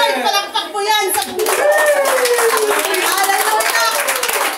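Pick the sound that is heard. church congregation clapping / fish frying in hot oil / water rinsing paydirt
church congregation clapping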